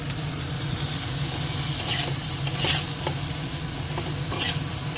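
Ridge gourd is added to a pan and fries, a steady close sizzle with stirring scrapes and light clatters throughout.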